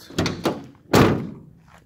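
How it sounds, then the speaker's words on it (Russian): A Mercedes-Benz Sprinter van from 2016 has its door handled: two quick light knocks, then a solid closing thunk with a short fading tail, close by. "Легусенько закрываются двери."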